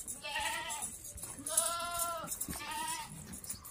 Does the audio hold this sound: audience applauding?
no